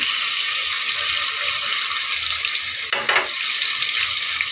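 Chickpeas frying in a hot pan, a dense, loud, continuous sizzle close up with a brief stirring clatter partway through, no talking.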